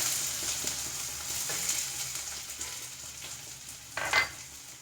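Chopped onion sizzles steadily in hot oil for a vegetable kurma, a broad continuous hiss with a few soft stirring scrapes and a brief louder clatter near the end, no voices.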